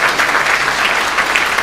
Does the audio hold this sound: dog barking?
no